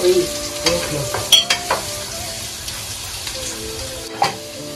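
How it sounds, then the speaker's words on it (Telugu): Grated carrot and beetroot frying in a pan with salt and turmeric, a low continuous sizzle with a few light spoon taps and stirring clicks, close and fairly quiet throughout. "సో క్యారెట్, బీట్రూట్ మొత్తం వేసేసాము. ఇవి బాగా ఫ్రై చేసుకోవాలి."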